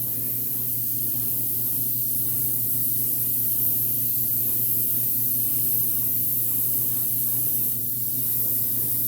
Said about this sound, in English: Just got some in here at the end of my airbrush.